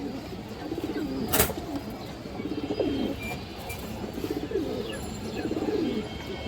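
Pakistani Rampuri high flyer female pigeons coo in repeated soft bursts close by, with a brief sharp knock partway through and no talking.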